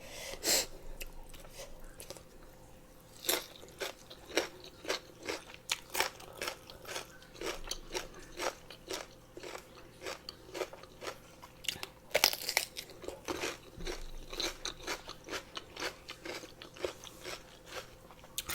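Crunchy biting and chewing while eating spicy bamboo shoot soup with fried fermented fish and sticky rice, with irregular close crisp bites repeating throughout and no talk.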